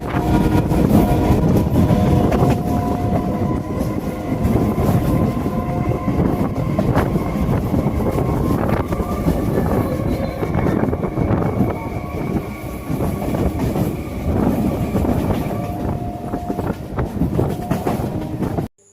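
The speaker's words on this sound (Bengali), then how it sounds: "আমরা third AC ইকোনমিতে Howrah পৌঁছাচ্ছি Puri station থেকে" Inside a moving third AC economy train from Puri to Howrah, a loud continuous rumble and rattle runs with steady rhythmic wheel clatter throughout.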